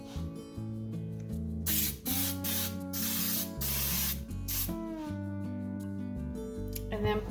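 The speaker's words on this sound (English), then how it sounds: "I'm going to take a 9 by 13 cake pan and spray it with some Baker's Joy" Baker's Joy baking spray is sprayed into a 9 by 13 cake pan, giving a few short hissing bursts over steady background music.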